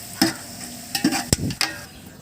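Cinnamon and whole spices sizzle softly in hot oil for country chicken biryani, broken by a few distinct scrapes and knocks of a spoon stirring the pan.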